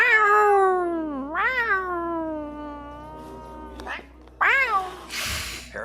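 A domestic cat meowing in long, wavering, drawn-out cries, loud and close, with a couple of separate calls and a short rustle between them.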